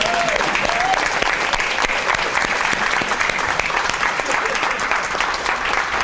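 Audience applauding a volunteer, sustained dense clapping at even loudness throughout with a faint voice near the start.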